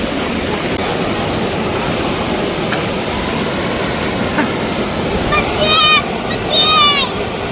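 A waterfall pours and splashes in a steady, loud roar of rushing water, with a few brief whistle-like calls near the end.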